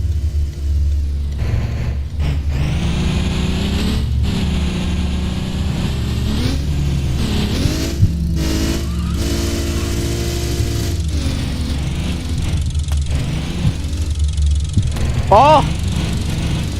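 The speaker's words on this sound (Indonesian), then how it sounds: "Ini mobil udah rusak banget. Suaranya itu loh." A badly damaged car engine in the mobile driving game Bussid runs with a steady, rough low drone throughout, while someone talks over it.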